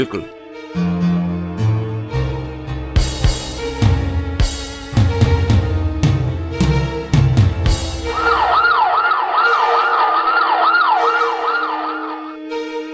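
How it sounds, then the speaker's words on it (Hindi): A wailing ambulance siren in a Hindi radio play rises in over music and effects, its sweeping up-and-down tone loud and close for several seconds. "ये आप एम्बुलेंस लेकर क्यों आ गए?"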